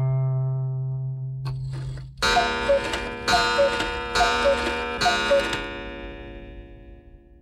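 A cuckoo clock ticks in a steady, evenly spaced rhythm of bright, close ticks, with a sustained tonal backdrop running underneath throughout.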